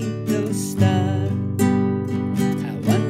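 Strummed chords played as the chorus of Twinkle Twinkle Little Star, four clear strums spaced about a second apart, each ringing out close and loud with no voice.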